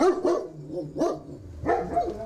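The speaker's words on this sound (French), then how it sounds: "Alors là, on a apparemment 3 chiens." Several caged guard dogs bark in short, sharp bursts, with three clusters of yaps and barks spaced across a couple of seconds at moderate distance and no voices.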